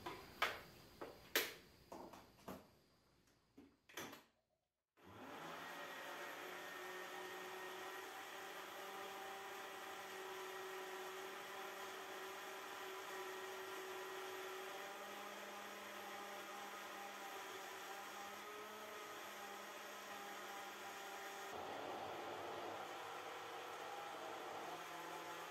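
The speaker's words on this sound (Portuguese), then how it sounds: "Agora vou bater todos esses ingredientes por 2 minutinhos no liquidificador." A kitchen blender mixes cornmeal cake batter with milk, starting after a few sharp knocks and then running as a steady, even whir for about twenty seconds with no voices.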